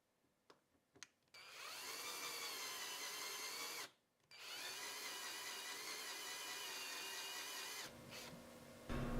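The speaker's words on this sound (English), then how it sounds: "And then I'll just drill the recess holes for the weight." A power drill bores recess holes for keel weight into a handmade paper fishing lure, whining loudly and steadily in two long runs separated by a brief pause, with a few short bursts at the start.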